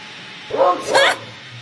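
A dog barking outdoors, two quick close barks in succession against a quiet background.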